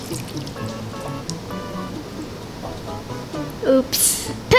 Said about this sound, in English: Now I have to fill the rest with water.